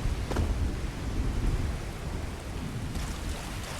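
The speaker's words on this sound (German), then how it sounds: "Oh yeah, Gewitter." Thunderstorm in the video game Starfield: heavy steady rain with loud rumbling thunder, dense and continuous throughout, with no talking.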